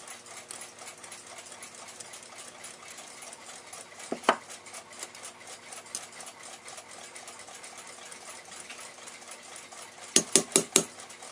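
Bushing pressed into the second wheel position of an 1889 Seth Thomas parlor clock: a steady mechanical whir runs throughout, with a sharp click near the middle and a quick burst of three or four loud clicks at the end.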